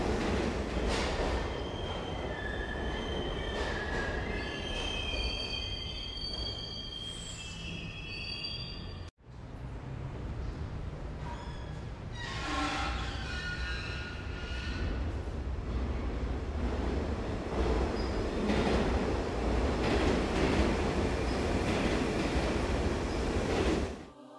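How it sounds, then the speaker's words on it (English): A metro train car in the video game Icey rumbles along the rails with a steady mechanical roar, squealing wheels and clattering track noise, briefly cutting out before resuming loud and continuous. "Icey enters a metro car in total disrepair, but it seems like it could still be operated. The metro begins to move"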